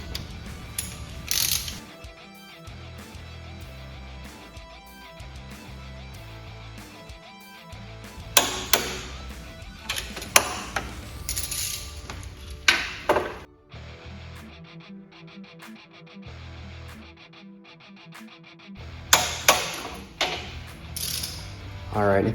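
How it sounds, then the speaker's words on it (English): A torque wrench ratchets on bolts of an Indian Challenger motorcycle, giving bursts of close, rapid clicking with sharp clacks between pauses and some quieter handling noise. "Now we'll get those torqued to the 60 foot-pound torque spec."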